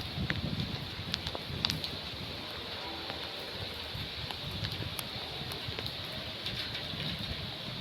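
Heavy rain driven by strong gusting wind over a residential housing society, a steady dense broadband wash of noise with no voices, holding level throughout.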